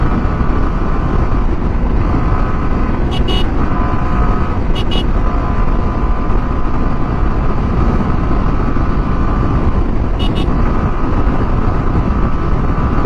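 An Apache 4V motorcycle rides steadily with a continuous engine hum and wind rush, a few brief high clicks or chirps cutting through, the drone constant and close throughout.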